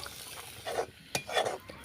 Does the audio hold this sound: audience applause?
no